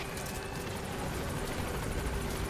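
Helicopter arriving at a landing zone in Metal Gear Solid V: The Phantom Pain, a steady loud rotor thrum with rapid blade chop filling the whole stretch, no voices.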